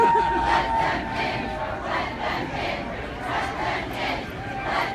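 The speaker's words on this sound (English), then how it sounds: "the crowd keeps getting bigger and bigger" A large protest crowd at an airport chants a short slogan in a repeated rhythmic cadence, roughly once per second, loud and close with many overlapping voices.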